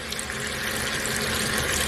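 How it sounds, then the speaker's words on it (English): Chicken broth pours into a soup pot as a steady liquid splash, close and continuous, running without pause for a couple of seconds. "We're gonna go ahead and we're gonna pour it in the center."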